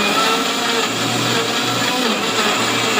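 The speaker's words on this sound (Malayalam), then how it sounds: "നമ്മൾ മിക്സിയിലേക്ക് ഇതൊക്കെ ഇട്ട് ഒന്ന് നന്നായിട്ട് അടിച്ചെടുക്കാൻ പോണ്." An electric mixer grinder runs loud and steady, blending bananas and milk for a Sharjah shake with a constant close whirring drone and no breaks.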